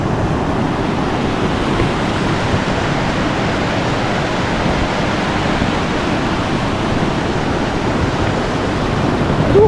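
Steady, loud rushing water from a waterfall near Big Almaty Lake in the mountains of Kazakhstan, a constant broadband roar that holds unchanged throughout with no talk.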